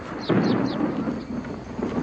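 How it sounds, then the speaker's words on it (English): Thunder from an approaching storm in the film Boggy Creek II rolls as a loud, sustained low rumble with a few crackling peaks, continuing steadily throughout. "Looks like there's a storm coming up."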